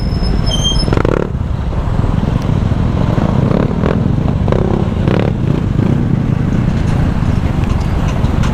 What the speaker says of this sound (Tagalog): Ganda ng tunog tambutso ni kuya eh no.